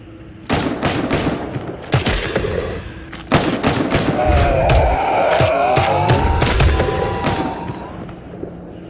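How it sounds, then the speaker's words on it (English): Heavy automatic gunfire from a BTR armored vehicle in the video game Into the Radius, long loud bursts of rapid shots with sharp cracks and booming impacts, swelling into a sustained barrage before tapering off. "getting trapped behind a shed, getting gunned down by the BTR"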